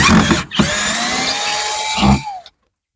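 A power drill drives screws into wooden slats while renovating a parrot aviary, the motor whining steadily in two bursts with brief pauses between, loud and close with no talking.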